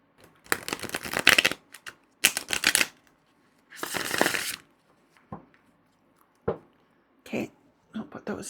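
Glossy tarot and oracle cards being shuffled by hand, with several quick, crisp riffling bursts that pause between each other, close up and fairly loud.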